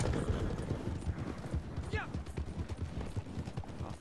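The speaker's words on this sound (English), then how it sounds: "Your horse is pretty fast." Horse hooves clip-clop at a quick gallop in the Red Dead Redemption video game, rapid rhythmic thuds under talk with a brief whinny in the middle.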